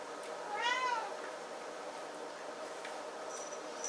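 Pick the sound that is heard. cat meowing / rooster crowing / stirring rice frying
cat meowing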